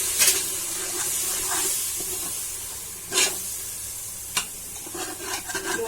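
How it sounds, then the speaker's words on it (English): A turmeric curry base for beef kofta curry frying in a pan after water is added, giving a steady hiss of sizzling with a few sharp crackling pops, close and fairly loud. "I'm adding on some more water because I want to let it fry."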